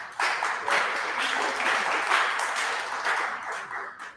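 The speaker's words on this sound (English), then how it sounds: "You can applaud, that's okay." Town hall audience applauding, a steady dense wash of clapping that holds for several seconds at moderate distance, with no talk over it.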